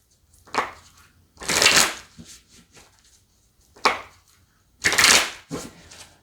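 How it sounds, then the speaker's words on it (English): Osho Zen tarot cards being shuffled by hand, several crisp bursts of riffling and sliding that come in pairs with short pauses between them, heard close and alone. "let's give those a quick shuffle."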